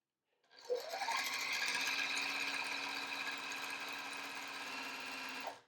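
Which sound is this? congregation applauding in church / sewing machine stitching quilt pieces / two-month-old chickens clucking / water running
sewing machine stitching quilt pieces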